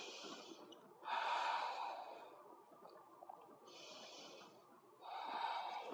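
Slow, audible breaths during a seated yoga twist in a mobility flow: two long, airy exhales and inhales alternating, close and soft, with no talking.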